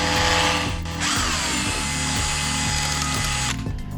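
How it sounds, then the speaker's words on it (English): A Makita power drill used as a mixer whirs steadily at high speed, briefly dipping then spinning up again, with a grinding churn like mixing something thick for homemade kebab. "It's good too. Makita drill."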